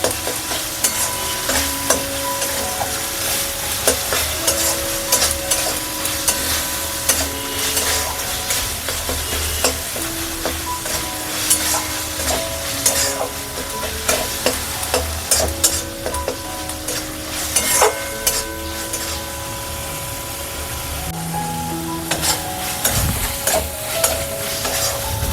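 Hilsa makhani sautéing in a pan, a continuous close sizzle with repeated stirring and scraping of a spatula throughout, no voices.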